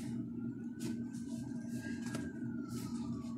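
An ambulance siren passes at a distance as a faint wavering wail over a steady low engine hum, heard from inside a vehicle at a fuel station.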